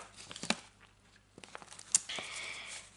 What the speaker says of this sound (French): c'est une petite pochette, voilà, avec un scratch